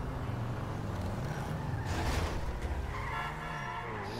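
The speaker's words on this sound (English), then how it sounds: "I'm just gonna drive the car where I'm gonna park the MOC." A car driving in GTA 5, a steady engine drone with shifting pitch and a brief swell of tire noise midway, fairly quiet overall.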